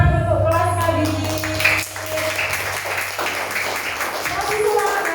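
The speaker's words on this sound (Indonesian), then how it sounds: "Tepuk tangan untuk kelas kali ini." An audience claps for a class at a children's Quran school event, a steady spread of applause running the whole time with voices and music-like tones layered over it.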